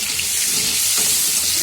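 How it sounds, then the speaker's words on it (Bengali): Parboiled new potatoes with salt and turmeric sizzle in hot oil, a steady close hiss of frying that runs unbroken throughout. "এবার আমি আলুগুলো ভেজে নেব"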